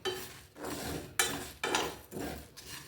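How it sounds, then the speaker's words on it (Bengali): Dried chillies and spices are stirred in a pan: rhythmic scraping and rustling strokes, about five sweeps, close and moderately quiet, with no talking. "শুকনো লঙ্কাটাও দিয়ে দিলাম এবার এগুলোকে কিছুক্ষণ নাড়াচাড়া করবো"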